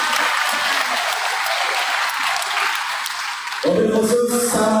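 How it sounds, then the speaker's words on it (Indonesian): Steady applause at a parenting seminar honors the committee chair, a broad wash of clapping that carries on for several seconds before louder, clustered clapping and crowd noise take over near the end. "Kasih tepuk tangan untuk ketua kita."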